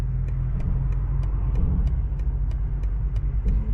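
BMW 760i in sport mode gives a steady, close low engine rumble from inside the cabin, continuous and fairly loud with faint periodic ticking above it and no talk.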